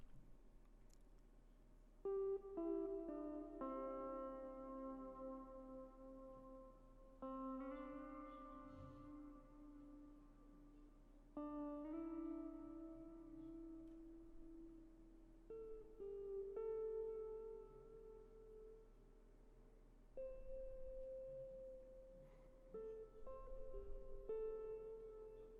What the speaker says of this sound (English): So after that, I played this other electric guitar.